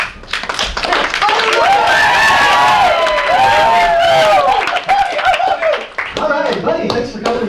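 A live audience at a Pizza Ranch show cheers and claps loudly, whoops and shouted voices rising over steady hand claps for several seconds, with talking mixed in.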